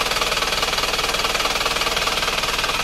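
A high-mileage car engine at roughly 270,000 km, smoking heavily, idles with a fast, even rhythmic chug and a clattery knocking edge, close and steady throughout with no voices.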